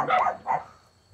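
A dog gives two sharp, close barks in quick succession, then falls quiet, with no voices.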